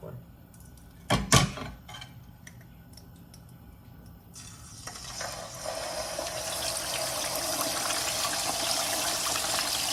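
Sea fish salt-fried in hot oil: after a few clatters and a quiet stretch, a broad, steady sizzle swells up midway and keeps crackling to the end, with a voice talking faintly underneath.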